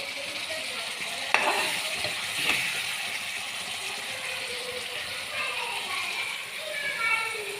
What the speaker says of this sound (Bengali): এবার আমি এটা খিচুড়িতে মিশিয়ে দিই